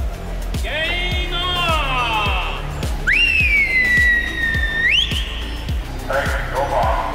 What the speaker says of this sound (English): Do you want to do the whistle for it?